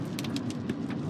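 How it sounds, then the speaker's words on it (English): Rain falls steadily during a thunderstorm with a dense, even patter and a few brief louder spatters. The downpour is heard close and alone, with no talking. "Looks like the rain is picking up."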